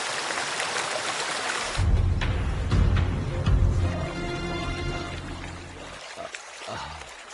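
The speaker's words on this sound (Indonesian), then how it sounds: "Saat menemukan sungai dengan cepat, Vicky mencuci mukanya" Running river water splashes as a man washes his face in an Indian film scene, a sudden wet burst of pouring and splashing that settles into a softer trickle and then fades.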